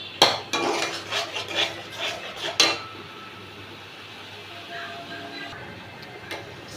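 A metal spoon scrapes and clinks against a pan while spices and chili powder are stirred in, giving a quick burst of irregular knocks early on that fades into quieter background noise with a few faint taps.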